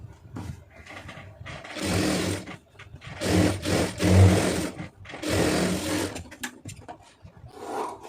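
A sewing machine stitches a lining blouse in loud, close bursts of rapid mechanical whirring, three main runs separated by short pauses and lighter clicks, with no voices.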